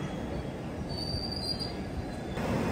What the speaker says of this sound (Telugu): ప్లాట్ఫామ్ నెంబర్ 1 లోకి ఇప్పుడు ఒక ట్రైన్ అయితే వస్తుంది